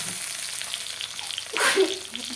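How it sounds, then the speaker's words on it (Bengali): Taro (kochu) frying in a pan gives a soft, continuous sizzle throughout, with a brief louder stir or splash of hissing near the end. "কচুটাকে ভালো করে ভেজে"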